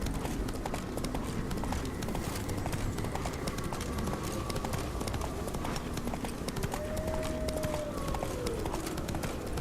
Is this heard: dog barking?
no